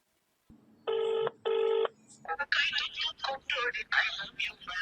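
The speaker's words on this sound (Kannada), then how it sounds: "ಆ ಗೋವಿಂದಿಗೆ ಹಚ್ಚನ ಫೋನ್." An outgoing phone call gives two evenly spaced ringback tones from the handset. Right after the second ring, a voice starts talking over the line.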